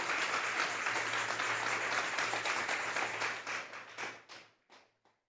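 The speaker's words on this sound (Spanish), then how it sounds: "Vamos a darle un fuerte aplauso al Señor esta tarde" A church congregation applauds during a Sunday service, dense clapping that holds steady, then thins out and fades to a few scattered claps near the end.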